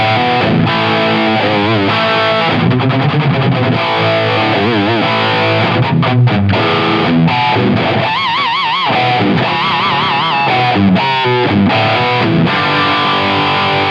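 Electric guitar played through a Friedman Pink Taco V2 distortion pedal set to maximum gain, with reverb added: loud, thick saturated chords and riffs with sustained notes and brief stops, no talking.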